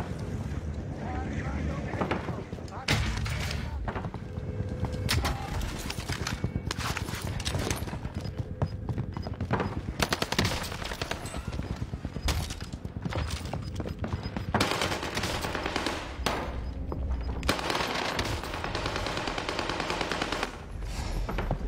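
Video game gunfire rattles in dense, loud bursts and rapid volleys, nearly continuous over a rushing, wind-like noise, with only brief lulls.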